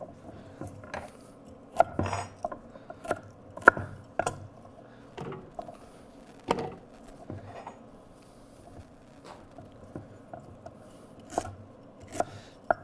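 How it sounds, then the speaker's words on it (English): Garlic, celery and carrot being ground for a tomato sauce, with repeated irregular knocks and chopping thuds on a hard surface plus light scraping, close and steady, with no talking. "And I have some celery and some carrot. So we want to grind all this up."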